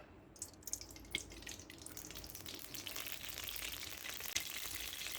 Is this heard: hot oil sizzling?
yes